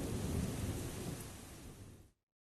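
Cartoon thunderstorm sound effect: steady heavy rain with rolling thunder rumbling underneath, loud and dense throughout before cutting off abruptly near the end, with no voices.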